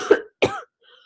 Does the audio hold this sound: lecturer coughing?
yes